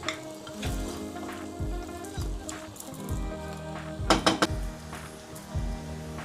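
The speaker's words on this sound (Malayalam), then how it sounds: "അതിന് നമുക്കൊരു 5 മിനിറ്റ് നമുക്കൊന്ന് ഇളക്കി കൊടുക്കണം" Duck masala frying in a pan for a Kuttanad-style duck mappas, stirred with steady scraping strokes over a continuous sizzle, with a louder clatter of the utensil near the middle.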